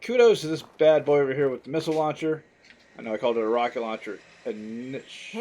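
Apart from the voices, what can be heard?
No everyday noises stand out.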